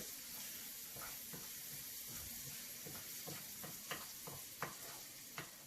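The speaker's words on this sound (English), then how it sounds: "we need to stir a lot when we make risotto because the stirring helps all the starch come out of the grains" Risotto rice stirred in a pan, soft sizzling underneath with a steady rhythm of spoon scrapes and occasional clicks against the pan, close and unaccompanied by speech.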